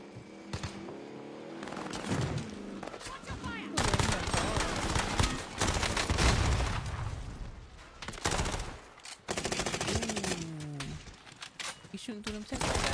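Gunfire rattling at tanks in a video game, with bursts of automatic shots and fusillades layered over game sounds and a speaking voice.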